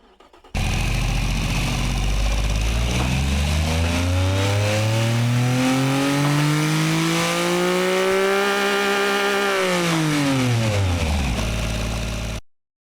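A turbocharged 8,000 RPM car engine in the game Automation or BeamNG.drive revs up steadily, climbing to a high whine, holding, then dropping back before cutting out. Loud and close throughout.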